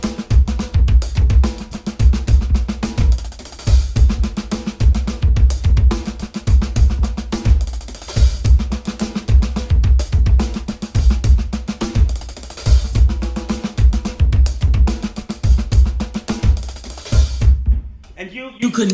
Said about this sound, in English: And then there, of course, is a Kalle Mathiesen Funk 2, which is more variated. It sounds like this.